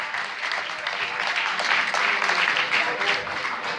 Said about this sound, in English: Y'all give a round of applause for the youth out of Persian High School